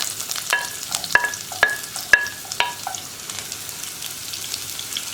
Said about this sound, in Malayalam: ഉള്ളി ചേർത്തിട്ട് ഒന്ന് ഗോൾഡൻ ബ്രൗൺ ആയി വരുന്നത് വരെ ഒന്ന് ഇളക്കി കൊടുക്കുക